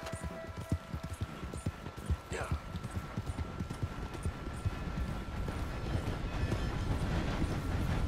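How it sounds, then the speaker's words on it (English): In the Red Dead Redemption 2 video game, a train approaches with rhythmic clattering wheels and a brief whistle, mixed with hoofbeats of a horse and a voice speaking over it. "Oh god, where's that train?"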